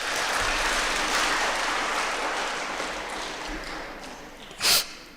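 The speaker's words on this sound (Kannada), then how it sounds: "ಸೊ ನಮ್ಮ ಎಲ್ಲ ಒಳ್ಳೆ ಸ್ನೇಹಿತರಿಗೆ ಒಂದ್ಸತಿ ಚಪ್ಪಾಳೆ" Applause from an audience at a student orientation programme, a dense steady patter of many hands clapping throughout, loud and sustained, with a brief sharp burst near the end.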